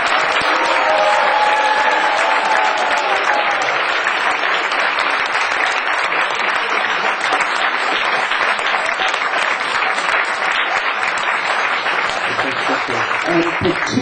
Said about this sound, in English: A round of applause for the actors again.